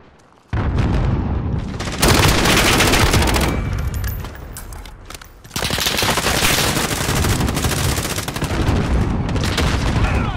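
In Call of Duty Modern Warfare, an electric gun fires in long, loud bursts of rapid shots, with a short pause in the middle before the firing resumes.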